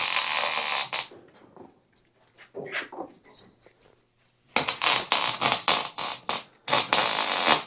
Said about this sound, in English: welding it now